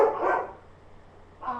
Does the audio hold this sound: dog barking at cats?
yes